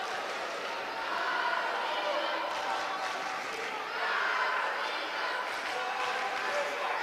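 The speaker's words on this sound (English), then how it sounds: "The Polish contingent cheering on Karolina Kuhn" Polish supporters cheer from the stands at a junior European boxing championship bout, a steady broad crowd roar rising in two louder swells, with commentary talking over it throughout.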